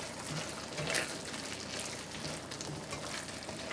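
Pasta being stirred through tomato sauce in a pan gives a soft, steady sizzle with faint scraping and squelching. It is quiet and continuous, with one brief sharper clink near the start and no talking.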